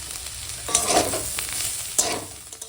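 Potatoes and onions fry in a pan with cumin and green chili, a soft sizzle with a couple of scraping stirs of a spatula breaking through.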